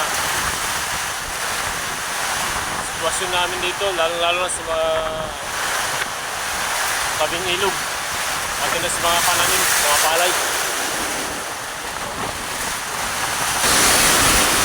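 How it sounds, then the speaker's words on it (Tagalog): Strong typhoon wind in Masbate roars and buffets the microphone continuously while a reporter speaks over it, gusting louder near the end. "Mas tumindi pa ang lakas ng hangin."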